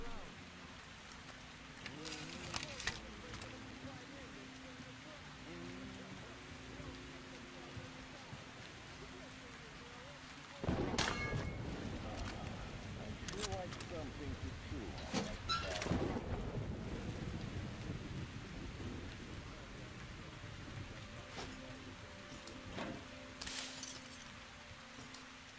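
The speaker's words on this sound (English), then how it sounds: "Here comes the storm." A thunderstorm with rain from Metro Exodus. Steady rainfall hisses throughout while a heavy thunderclap crashes in near the middle and then rolls away. A few fainter rumbles follow.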